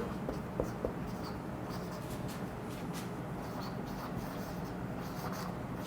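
Marker or chalk writing on a board during a physics lecture, heard as faint, quiet scratching strokes over a low room hum.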